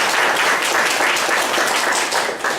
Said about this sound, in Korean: 네, 박수로 환영하겠습니다.